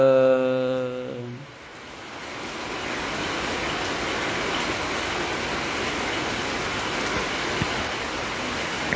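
Steady rain falling outdoors at a temple site in Thailand, a dense even hiss that swells after a short tonal sound at the start and holds loud and continuous to the end.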